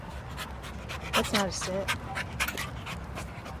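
Part-Rottweiler shelter dog panting close by in quick, rhythmic breaths, interrupted by someone speaking briefly over it.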